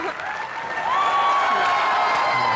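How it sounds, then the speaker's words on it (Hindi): A studio audience on a comedy show claps, the applause building after a moment into a loud, sustained roar of hands with some cheering, as a voice speaks over it. "ठोको ताली सोनाक्षी के लिए"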